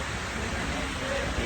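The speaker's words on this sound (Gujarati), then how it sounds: "જબરજસ્ત વરસાદ શરૂ થઈ ગયો છે" Heavy rain pours steadily onto a road and a roadside shelter in Vadali, Sabarkantha, Gujarat, a dense, even hiss that fills the short stretch without a break.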